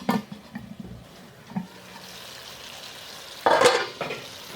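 A street-style chicken liver and gizzard fry sizzles softly in a pan, with a brief louder burst of sizzling and stirring near the end.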